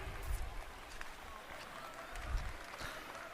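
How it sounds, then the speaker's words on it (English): A crowd at a USA BMX national race applauds in a steady wash of clapping, with a couple of louder swells and some indistinct voices mixed in. "a big round of applause for all of our down ladies"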